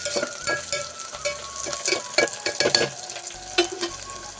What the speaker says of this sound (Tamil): வெங்காயம் நல்லா வதங்கிட்டுருக்கு.